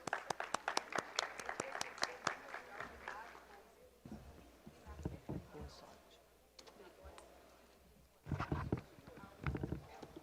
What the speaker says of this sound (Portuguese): Aplausos para a doutora Silvia.